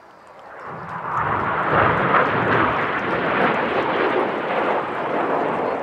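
Red Arrows jets roar overhead at an airshow while flying the Hannah break, a loud broadband engine rush that swells in and holds steady, with no voices.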